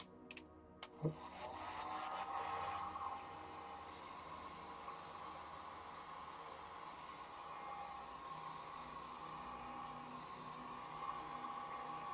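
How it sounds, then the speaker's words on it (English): Hair dryer switched on after a couple of sharp clicks, settling into a steady, faint whirring blow with a constant high hum that runs unbroken to the end. "Hair dryer."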